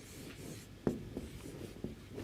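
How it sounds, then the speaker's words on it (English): Chalk or marker writing on a board during an operations management lecture, soft scratchy strokes with a few sharper taps, close and fairly quiet, with no talk. "So, first question I write here"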